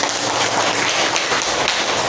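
A room full of people claps together, a loud, dense and steady wash of hand claps with no voices heard.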